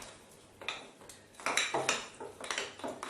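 Orange food colouring being stirred into cupcake icing in a mixing bowl, with a spoon clinking and scraping against the bowl in uneven bursts, close and fairly quiet, no talking.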